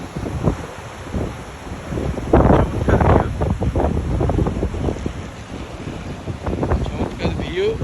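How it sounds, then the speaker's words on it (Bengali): Strong wind buffeting the microphone outdoors under an open sky, a continuous loud rumbling roar that surges and gusts throughout, with a voice speaking faintly beneath it. "অনেক বাতাস এখানে"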